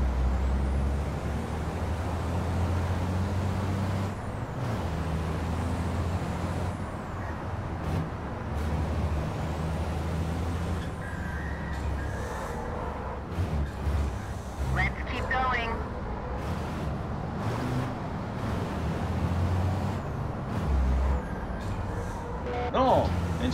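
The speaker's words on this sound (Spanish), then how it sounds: "Sí, los frenos, frenos." Truck air brakes hiss repeatedly in a truck racing video game on Xbox One S, short bursts over a steady engine drone with someone talking throughout.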